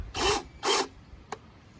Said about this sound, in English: So Megan grabbed my drill, my screw gun, and she's putting them in here.